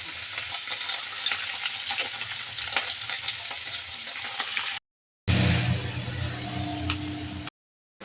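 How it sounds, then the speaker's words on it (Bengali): Onions frying in a pan give a steady crackling sizzle with scattered pops, joined after a short break by louder stirring and scraping, with no talk. "পেঁয়াজগুলোকে ভেজে নেবো আর মাছের সবজিগুলো কেটে নেব।"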